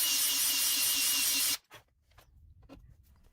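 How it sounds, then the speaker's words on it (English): A power drill bores anchor holes into drywall for a wall plate, a loud steady grinding whir that runs for about a second and a half, then cuts off abruptly, leaving faint scattered taps and handling noise. "Now simply drill the holes for the anchors."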